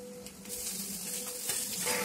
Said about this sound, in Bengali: ডিম দেওয়ার পর ডিমটাকে ভালো করে ফ্রাই করে নিতে হবে আর একটু ভাজা ভাজা রেখে দিতে হবে।